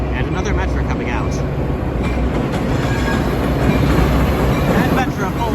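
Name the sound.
Metra commuter train coming out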